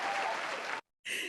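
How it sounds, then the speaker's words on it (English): Cued applause on a talk show welcoming a guest, a burst of dense clapping that cuts off abruptly to silence, then resumes briefly. "Yeah, cue that applause."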